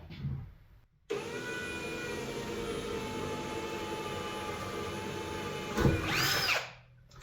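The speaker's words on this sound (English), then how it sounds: "as I get it started, I'm sort of rotating the drill around a little bit" A power drill bores rivet holes for stainless steel snap clips on a highbanker, a steady close whine held for about five seconds, rising in pitch briefly near the end before cutting off.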